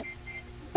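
A single short cough bursts out at the very end after a near-silent stretch, close and fairly loud.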